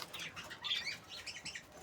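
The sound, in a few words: pet parrot squawking and flapping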